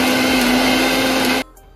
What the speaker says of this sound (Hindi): तो यहां पर मैंने वेजिटेबल्स को अच्छे से पीस दिया है, मिक्स कर लिया है।